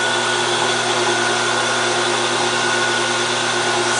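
A lathe cuts into a plastic yoyo, giving a loud, steady mechanical whine and hum with a constant tonal drone throughout, close and uninterrupted, with no voices.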